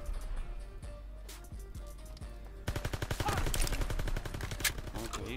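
Gunfire in the WWII video game Road to Master Division on the Ardennes Forest map: scattered shots at first, then a fast, continuous machine-gun burst that dominates the second half, with a player's voice talking underneath.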